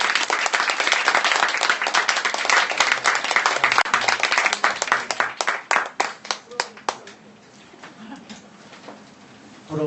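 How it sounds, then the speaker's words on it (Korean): A church congregation claps in encouragement during a Korean Sunday service, a loud, fast burst of many hands that thins into scattered individual claps and fades to near silence. "격려하는 마음으로 또 결혼 안 하신 분은 부러운 마음으로 격려의 박수 한번 하시죠"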